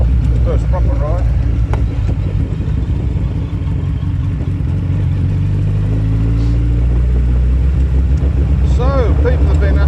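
Steady low engine rumble from a motorbike out on the road on the island of Kefalonia, loud and continuous throughout with wind noise, while a rider talks over it.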